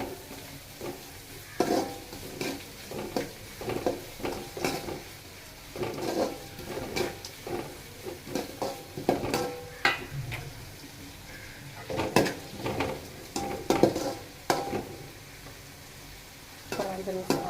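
Onions sauté in a pan for Chennai-style fish curry, with sizzling under repeated irregular scrapes and clinks of a spoon stirring against the pan, close and uneven, no voices.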